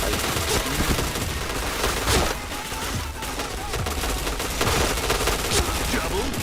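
Loud, dense bursts of automatic gunfire ring out in a shooting video game, shots overlapping almost without pause across the whole stretch.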